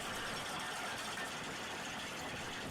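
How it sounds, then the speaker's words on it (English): A tractor engine drives farm machinery that grinds sorghum cane. It gives off a dense, unbroken mechanical drone, steady and fairly loud throughout, and no one talks. "the tractor provides power for all of this machinery to grind the cane"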